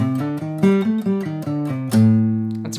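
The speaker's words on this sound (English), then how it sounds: "So let's practice the scale without the fifth." A guitar plays a blues scale with the fifth left out, about ten evenly picked single notes close up, rising and falling before settling on a ringing low note, with no voices.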